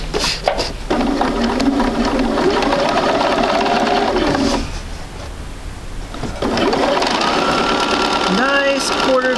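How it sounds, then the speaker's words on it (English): Sewing machine running a quarter-inch seam on a quilt block, a close, loud mechanical whirr in two long bursts separated by a brief pause, with someone talking over it. "we're going to sew one more time, last time, and then we get to trim"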